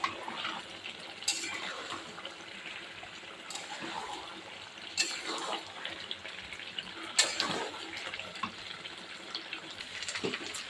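Hot boiling water pours and splashes into a cooking pot with potatoes in a home kitchen, a steady close watery rush broken by occasional clinks of utensils against dishes.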